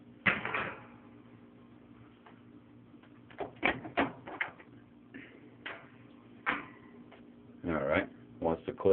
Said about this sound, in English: First thing you want to do is remove the clips